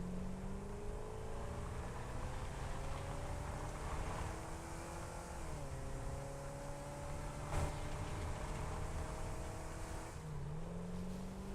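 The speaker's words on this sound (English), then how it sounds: "this is so much better driving around on this terrain" A vehicle driving over rough terrain in the factory-building game Satisfactory: a steady engine drone runs throughout, its pitch dipping and shifting as the vehicle rolls and bumps along, with a brief sharp knock partway through.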